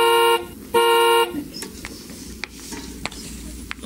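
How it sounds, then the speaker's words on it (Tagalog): A car horn blares twice in long, loud blasts as the car approaches a man sitting in the road, then gives way to a low engine rumble with scattered faint clicks and ticks. "Parang hindi niya napansing may paparating na kotse."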